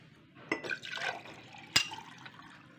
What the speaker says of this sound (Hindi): ये देखें 1 गिलास भर के हमने इसके अंदर पानी डाल दिया।